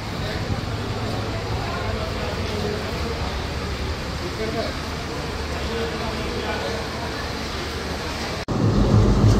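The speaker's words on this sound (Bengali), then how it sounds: "এই হলো আজকে আমাদের সফরসঙ্গী ঢালাচর এক্সপ্রেস, যেটা কিন্তু ইরানি ভ্যাকিউম কোচে চলাচল করছে।" Dhalarchar Express train made up of Iranian vacuum coaches, a steady loud rumble of rail and engine noise throughout, with a brief dropout near the end before the rumble returns, louder and closer.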